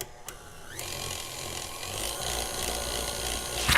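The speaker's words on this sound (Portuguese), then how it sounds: "Vou bater aqui por 10, 15 segundos, o mais rápido que a minha batedeira conseguir, ou seja, em velocidade alta" An electric mixer runs at high speed, beating cake batter, with a steady close whirring motor and rough scraping that grows slightly louder over a few seconds.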